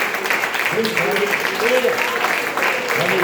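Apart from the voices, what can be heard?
congregation applauding in church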